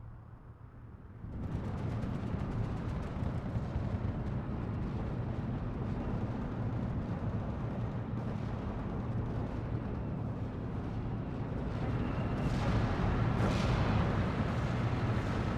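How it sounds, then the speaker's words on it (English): Mortar and off-map artillery barrages in the war game Steel Division II, a dense, continuous rumble of overlapping blasts and booms that swells slightly toward the end. "With all these mortars, do you really need that much off-map is what I'm thinking"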